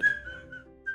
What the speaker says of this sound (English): My kid is playing his little flute upstairs.